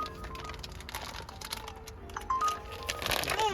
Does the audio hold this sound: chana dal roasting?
no